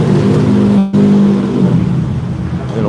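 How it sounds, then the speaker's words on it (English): Old beat-up Honda car with no muffler and no bumper driving past, a loud raw low engine roar that dips briefly, then carries on rumbling steadily nearby. "An old beat-up Honda, no muffler, no bumper on it."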